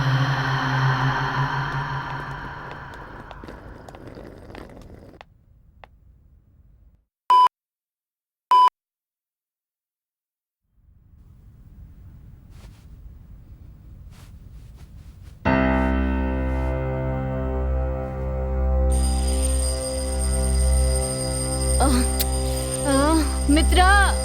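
Short electronic alarm beeps sound twice in a quiet gap within a Hindi horror film scene, with a sustained musical score and other sounds around them.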